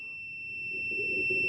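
A multimeter's continuity beep sounds while testing a new lawn mower safety switch, a steady, unbroken high electronic tone heard up close, over a low rumble of handling noise.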